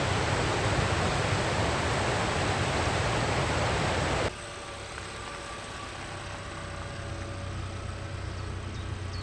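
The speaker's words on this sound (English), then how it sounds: "take a photograph of the waterfalls again" Rushing water at Nantcol Waterfalls, a loud, steady broadband roar that drops abruptly to a softer, continuous rush about halfway through, with no voices.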